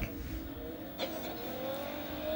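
In Call of Duty Mobile, a car engine hums faintly and steadily, its whine climbing slowly in pitch as the vehicle drives along.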